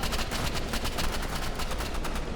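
Rapid gunfire from the Roblox shooter Rivals crackles in a steady burst of repeated shots, loud and close, filling the whole moment with no talk over it.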